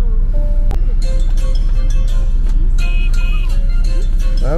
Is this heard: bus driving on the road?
yes